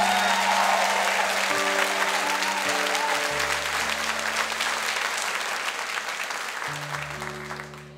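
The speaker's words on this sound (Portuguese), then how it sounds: "Quem crê nisso, aplaude o Senhor." Church congregation applauding at a Brazilian evangelical praise night, a steady wash of clapping that fills the whole stretch over sustained organ or keyboard chords, fairly loud and continuous.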